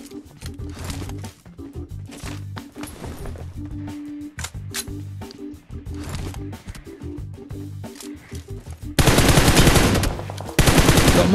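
Video game gunfire in a battle, with rapid bursts of automatic shots and single cracks that come and go, then a loud dense stretch of firing near the end.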